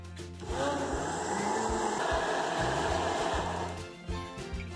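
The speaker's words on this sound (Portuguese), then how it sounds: "Enquanto eu bato essa massa aqui no liquidificador" A blender mixing lemon cake batter whirs steadily at close range, its fairly weak motor droning without a break for several seconds before easing slightly near the end.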